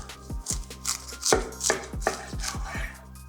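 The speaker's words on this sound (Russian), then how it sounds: "И нарезаем ростбиф." A knife slices roast beef on a board, about eight crisp chopping strokes in an irregular rhythm, close up with no talking.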